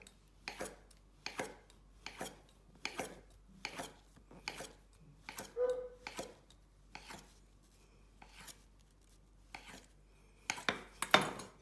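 A knife chops through rolled-up pasta dough to cut tagliatelle, landing a steady series of about a dozen crisp, close strikes on a board, with a brief clink midway.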